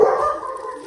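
A dog barks once, close and fairly loud, in a short burst that trails off, with no one talking.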